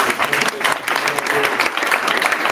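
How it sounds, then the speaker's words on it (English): An audience claps through a short round of applause at a panel event, a dense, even patter of hands with some faint voices mixed underneath. "let's do a round of applause"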